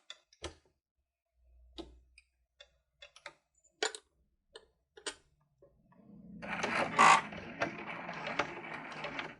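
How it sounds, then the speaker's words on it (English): A sewing machine stitches a quarter-inch seam down the side of a lined zipper pouch: a few scattered clicks and ticks at first, then a steady, close whirring run of stitching for the last few seconds. "now we're going to go ahead and stitch down this side with about a 1/4 inch seam allowance"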